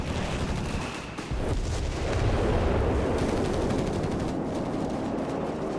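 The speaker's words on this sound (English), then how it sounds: "Also, the Flak 30, they managed to hit Veterancy too. That's neat. They're shooting down aircraft." A Flak 30 anti-aircraft gun fires at aircraft in the video game Company of Heroes 3, a dense, continuous barrage of rapid booming shots that stays loud and steady throughout.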